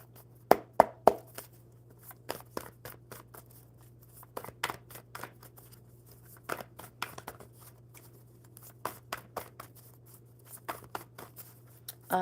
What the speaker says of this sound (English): we need a good shuffle here for Dustin